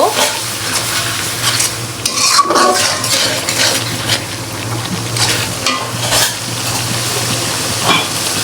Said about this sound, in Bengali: এর সাথেই তো এখন ভালো করে মশলাটা কষিয়ে নিব